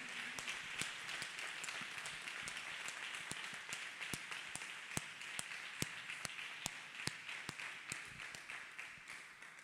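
An audience claps hands together in sustained applause at a Christian healing service. Many sharp claps ring out over a steady wash of clapping, fairly faint and continuous throughout, with no talking.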